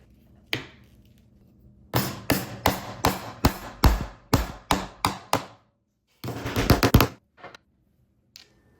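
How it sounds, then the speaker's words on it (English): Hammer blows driving a furniture foot base into plywood: a single knock, then a steady run of about ten sharp, close strikes, a fast cluster of quicker taps and a last faint knock. "I just basically am going to hammer this into the plywood to hold it in place"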